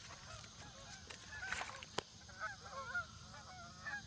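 Geese honking at a lake in the evening, repeated distant honks in a loose irregular chorus, fairly faint, with a brief sharp click partway through.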